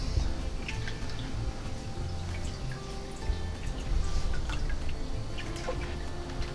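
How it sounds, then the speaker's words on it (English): Water runs steadily from a tap over a salmon egg sac in a colander, a continuous close wash of splashing and dripping with no voices. "Just run the water over it and eventually this thing shrivels up and it comes off."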